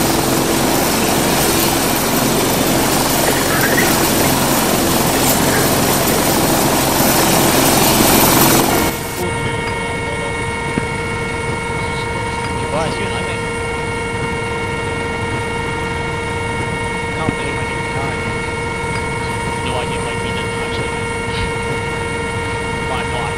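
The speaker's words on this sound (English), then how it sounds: "Wilson, this is Booth, I'm in the chopper" A military helicopter during an airborne operation gives a loud, steady rotor and engine roar throughout, with a denser rush early on that drops to a lower steady drone.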